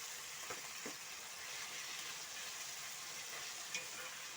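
Beef frying in a pot, a steady close sizzle with soft hissing and a few faint stirring scrapes throughout.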